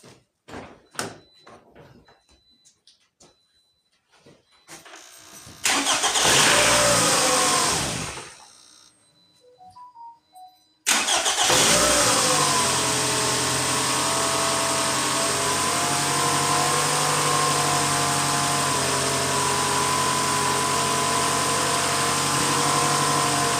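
A 2011 Toyota RAV4 Sport with a 2.5 engine and charging problems cranks briefly and then starts. A strong, close engine idle follows and holds steady, after earlier clicks and knocks. No one speaks.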